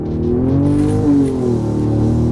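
A Ford F-150 Raptor with a Borla stainless 3-inch mid-section, X-pipe and ATAK mufflers revs hard through a gear, its loud, close exhaust note climbing with a brief dip at the shift.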